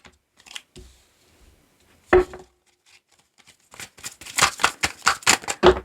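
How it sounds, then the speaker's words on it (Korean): Tarot cards shuffled and drawn at close range: a few soft slides and a sharp slap, then a rapid run of crisp riffling flicks near the end. "카드로 뽑아보도록 할게요"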